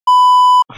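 A single loud, pure electronic censor beep, a steady tone held for about half a second, followed by a brief trace of a voice.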